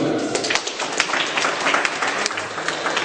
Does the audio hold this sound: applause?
yes